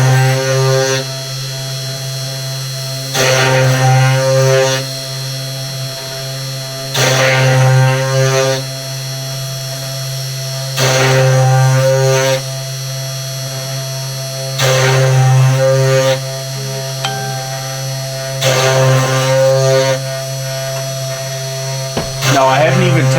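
A GRBL-controlled CNC machine spindle set to 1,000 RPM, a steady electric whine with a hum underneath, with louder bursts of machining that come back about every four seconds.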